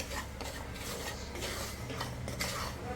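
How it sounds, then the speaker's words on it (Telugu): White semolina (rava) fries in ghee in a pan over a low flame while being stirred for payasam. Soft, continuous scraping and light metallic clinks of a spoon against the pan sound close and fairly quiet, with no talking. "వైట్ రవ్వ తీసుకొని ఇప్పుడు ఫ్రై చేసుకోవాలన్నమాట. సిమ్లోని గీలో పెట్టి ఫ్రై చేసుకోండి."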